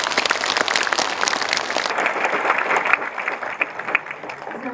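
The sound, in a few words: audience applause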